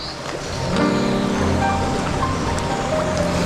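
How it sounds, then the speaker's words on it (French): Rain falls outdoors as a steady, dense hiss that swells after the first moment and holds evenly throughout, with no talking. "Merde, il pleut, il pleut."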